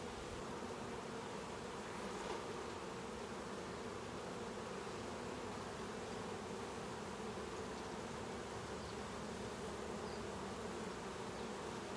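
Honeybees buzz steadily around a honey frame at a hive, a dense, continuous hum that stays close and even throughout, with no voices.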